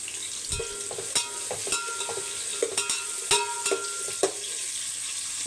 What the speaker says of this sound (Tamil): வெங்காயம் வதங்கட்டும் உப்பு சேர்த்துக்கலாம்